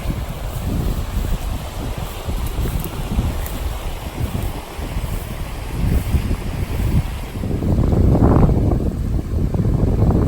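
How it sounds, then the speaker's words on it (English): River water churns and swirls in a small whirlpool along a beaver-inhabited riverfront, a continuous rushing wash mixed with heavy wind buffeting on the microphone that grows louder toward the end. "this little, what would you call it, kind of a whirlpool here where the water turns back on itself"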